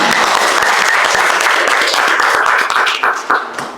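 Applause from a lecture-class audience fills the room, dense and steady clapping that thins out toward the end with a few scattered claps.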